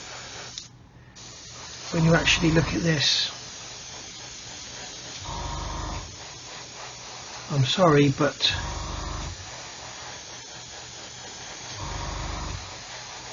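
Short bursts of aerosol spray paint hiss onto a Revell 1/144 Apollo Saturn V model, several separate blasts between stretches of someone talking.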